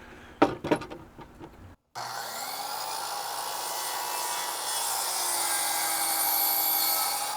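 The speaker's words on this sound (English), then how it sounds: "I'll cut baseboard at a little bit of an angle, 2 or 3 degrees" A saw cuts through wooden baseboard trim at a slight angle of two or three degrees, starting with a few sharp scraping strokes, then a short pause before a loud, steady whining cut that holds to the end.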